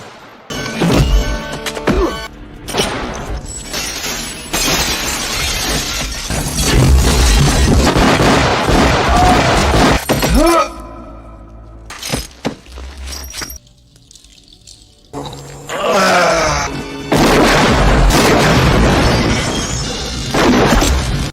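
Gunshots and impacts ring out in a film gunfight against Pete Van Clee: loud, dense bursts of shots, crashes and shattering debris, broken by brief lulls.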